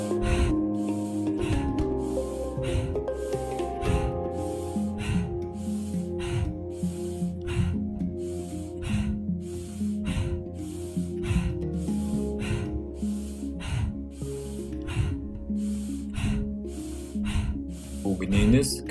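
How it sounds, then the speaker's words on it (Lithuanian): Fast, forceful breaths in a cooling breathing exercise taken at doubled pace, a steady rhythmic train of sharp inhales and exhales close to the microphone, continuing for the whole stretch. "Įkvepiam giliai pilnus plaučius."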